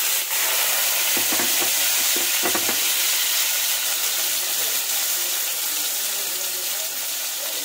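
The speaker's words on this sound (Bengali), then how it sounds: "উচ্ছেটা তেলের ওপর দিয়ে দেবো।" Bitter gourd frying in plenty of oil in a wok gives a loud, dense, hissing sizzle that starts almost at once and stays strong, with a few low thumps early on as the pieces land.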